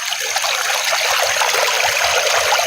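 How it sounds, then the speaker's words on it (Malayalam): Water rushing hard from a leaking water authority pipe, a loud, close, unbroken gushing flow with no one speaking. "വളരെ കുത്തൊഴുക്കായിട്ടാണ് വരണത്"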